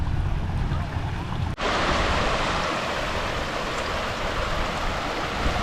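An artificial waterfall stream at a riverside campsite pours in a steady, loud, broad rush of water that cuts in abruptly and then holds constant.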